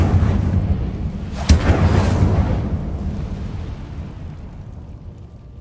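The Incendio fire spell in Hogwarts Legacy erupts in a loud, close whoosh with a sharp burst, then a roaring rumble that slowly fades out.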